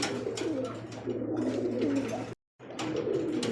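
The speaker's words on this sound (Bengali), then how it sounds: "এটা হচ্ছে আকাশি রাজগোলা কবুতর" Sky-blue fancy pigeons cooing close by, a pair of large birds giving repeated low throaty coos over a faint steady hum, with a brief silent gap near the end.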